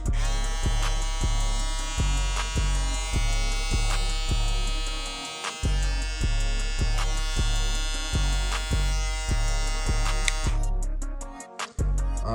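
A close Fabulous electric foil shaver hums with a strong, steady buzz and regular pulsing beat, running continuously until it cuts off near the end.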